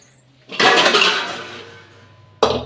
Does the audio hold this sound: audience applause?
no